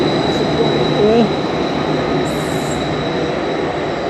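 A steady, loud rumble of a train in motion fills the space, with thin metallic squeals rising from the wheels on the track.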